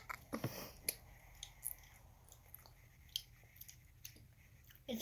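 Japanese candy gum is chewed close up, with soft wet squishes and small smacking clicks repeating irregularly against a quiet background.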